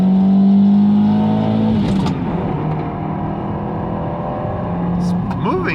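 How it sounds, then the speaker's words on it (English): A 1991 Toyota Sera with a factory five-speed manual accelerates in first gear, its engine droning steadily from inside the car and changing pitch, with someone talking over it. "First gear. Can't really accelerate too hard in first because there is some torque steer."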